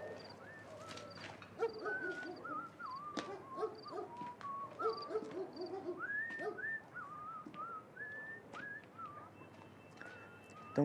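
Repeated short whistles, rising and sliding, as a lookout's signal in a 2002 Romanian film, scattered over about ten seconds with clicks and faint background bustle, moderately near and without speech.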